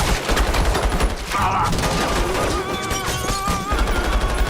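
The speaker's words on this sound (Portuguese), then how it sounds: "a polícia estava atrás do Silverman, que começou a atirar e trocar tiros" Dense, rapid gunfire from a shootout with police rattles on without pause, loud and close, with overlapping shots and bursts from more than one direction.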